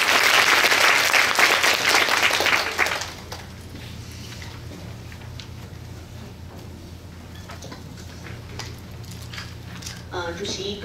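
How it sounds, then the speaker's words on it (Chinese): An audience at a Chinese-language education seminar forum claps to welcome a speaker, a dense burst of applause for about three seconds that quickly dies away into a quiet room, followed by faint talk. "我们掌声欢迎陈立明陈老师"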